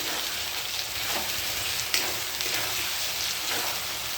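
Mutton masala fries in oil with a dense, steady sizzle like light rain, close and continuous, with a faint scrape of stirring now and then.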